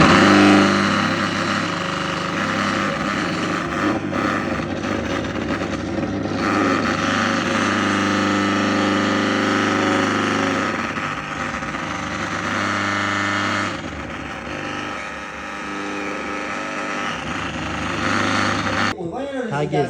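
A 6 kW electric motor with aluminium windings runs steadily, giving a loud, continuous hum with strong tonal lines that holds for about twenty seconds before cutting off abruptly at the end.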